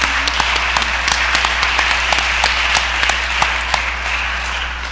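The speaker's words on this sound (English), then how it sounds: "how about a round of applause for all those people I thanked?" A press conference audience claps steadily, a bright, continuous wash of hand claps at moderate distance that holds for several seconds before easing slightly.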